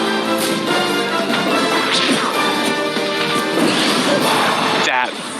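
Mario's up smash whiffs at the ledge in a Super Smash Bros match, giving a loud crashing hit sound over constant crowd roar and game noise, with a sharp swish near the end.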